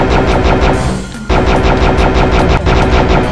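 Rapid gunfire from the video game Heretic, a loud, dense stream of repeated shots that briefly drops out near the middle and resumes at full intensity.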